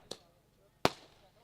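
Firecrackers burst at a cricket tournament, the Shri Bapuji Dev Chashak 2026 in Koproli: three sharp, separate bangs, a faint pop first, then a loud, close crack that fades, then another burst at the end.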